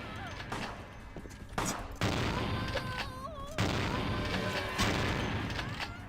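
Shotgun fire in the video game Vampire: The Masquerade – Bloodlines, with loud booming blasts about a second apart amid chaotic combat noise and in-game voices.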